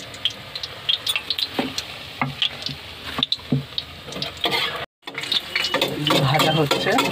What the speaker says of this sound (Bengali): কচুরি পড়ে গেছে এবার ভাজা হচ্ছে